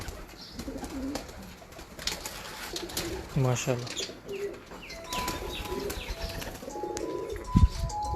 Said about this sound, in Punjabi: ਇਹਨਾਂ ਕਬੂਤਰਾਂ ਦੀ ਜਾਨ ਭਾਈ ਬਰੀਡ ਹੈ।